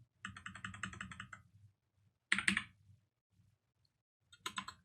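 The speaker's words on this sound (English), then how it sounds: "I don't even know what I was typing there." Fingers type on a computer keyboard while working through a HackTheBox hacking exercise: a rapid run of close clicks, a pause, a short sharp flurry, then another brief burst after silence.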